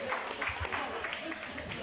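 An audience applauds during a champagne tasting event, a steady, moderate wash of clapping throughout the short stretch.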